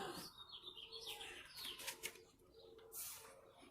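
A bird flaps its wings in quick bursts of fluttering, close and moderately loud, with a few soft chirps mixed in and no talking.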